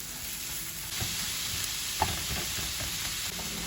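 Courgette and pepper frying in a pan for a vegetarian lasagne, a constant sizzle that swells when the vegetables go in, with clinks and scrapes from stirring, one sharp knock midway.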